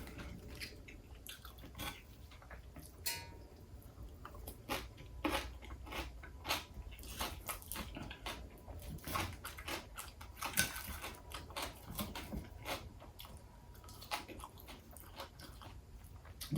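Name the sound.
chewing crunchy salad with Korean beef dinner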